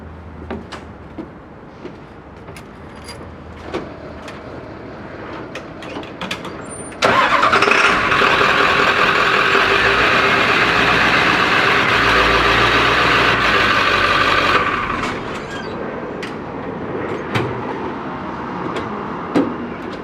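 A vehicle fitted with cable snow chains starts up with a brief crank, then runs in a louder, steady engine and rolling noise for several seconds before dropping back. Scattered clicks and knocks sound around it, and there is no speech.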